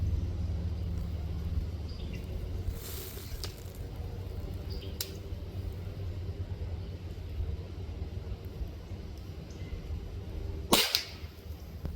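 An Apolo .25 caliber airgun fires a 33 grain slug outdoors: a sharp, close crack rings out near the end, with an earlier, softer burst of noise over a steady low background rumble.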